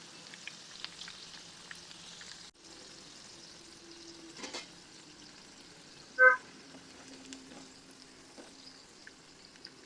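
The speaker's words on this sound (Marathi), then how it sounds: "सोनेरी रंगावर तळून घ्या" Gobi Manchurian cauliflower balls deep frying in oil until golden, a soft steady sizzle and crackle with a few faint clinks, heard alone without voices.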